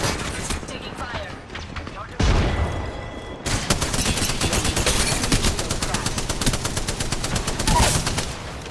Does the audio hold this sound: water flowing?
no